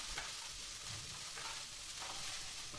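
Food sizzles in a pan while being stirred, a steady hiss broken by soft scraping and clicking movements.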